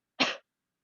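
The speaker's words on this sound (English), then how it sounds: "first you cough and then inhale, cough, inhale, cough," A single short, sharp cough given as part of a pranayama breathing exercise, close and clear, then silence.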